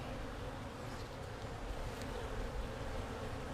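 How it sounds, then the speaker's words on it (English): Dense, steady buzzing of many honey bees close by in an opened hive, a continuous hum with no voices. "A lot of bees in here."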